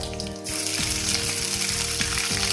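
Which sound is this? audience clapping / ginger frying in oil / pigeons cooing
ginger frying in oil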